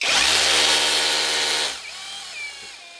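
A BAUER 20V cordless 1/2 in. SDS-Plus rotary hammer runs loud and close with a steady high whine and hammering buzz, then stops abruptly, leaving a faint winding-down hum.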